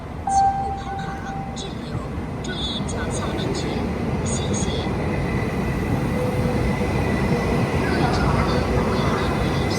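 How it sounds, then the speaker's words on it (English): A high-speed train rolls through Wuxi railway station in China with a continuous, loud, even roar and rushing hiss, while voices and brief chimes sit over the top. "Look at the train."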